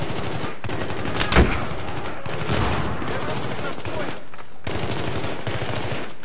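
Automatic weapon fire in the video game Battlefield 3 crackles in rapid repeated bursts, dense and continuous with brief pauses, one heavier thump near the start, and a player speaks over it.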